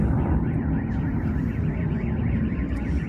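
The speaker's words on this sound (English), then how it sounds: "The car alarms are going off." Car alarms wail after a rocket strike in a war zone, several sirens overlapping in a loud, steady, warbling cycle that fills the whole stretch without a break.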